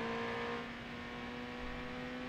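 Car engine accelerating hard with a steady high engine drone held under load. It sounds close and continuous with no voices over it.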